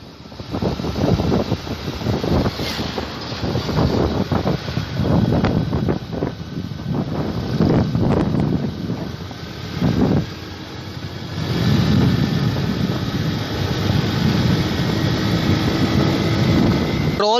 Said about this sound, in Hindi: अभी जो है सिंगल ड्राइव कर रहा हूँ और 40 पे जो है बाइक को चला रहा हूँ